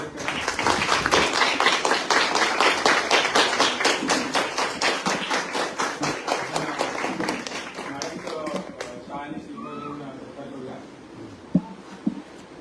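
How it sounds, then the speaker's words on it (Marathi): An audience applauds a guest at a martial arts academy class event, steady dense clapping that holds for about nine seconds before thinning into scattered claps and fading, with a few louder thumps near the end. "सगळ्यांनी इतर टाळ्या वाजवून त्याचं स्वागत करा"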